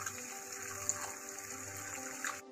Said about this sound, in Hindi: अब इसमें हम डाल रहे हैं 1/4 कप पानी